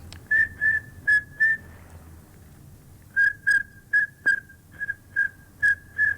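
A person whistles an imitation of a pintail duck's call, clear high whistled notes in two bursts of short repeated pulses with a pause between them, close and loud with no talking.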